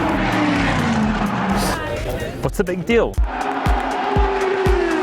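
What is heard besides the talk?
Indy car racing at high speed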